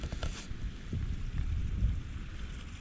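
Rain drizzles steadily on a bivi camp in the outdoors, a soft, continuous patter mixed with low wind rumble, close and fairly quiet, with no one talking.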